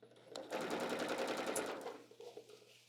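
A home sewing machine stitches a fabric apron in one steady, rapid whirring burst lasting about two seconds, close and clear, then slows and stops.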